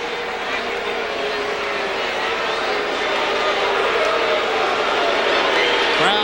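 A large stadium crowd at the 2002 NCAA Division I men's lacrosse championship between Syracuse and Princeton roars in sustained displeasure, a dense, loud wash of voices throughout with a commentator talking over it.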